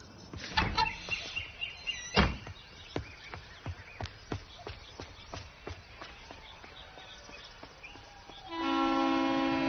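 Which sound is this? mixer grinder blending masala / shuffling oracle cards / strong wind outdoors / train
train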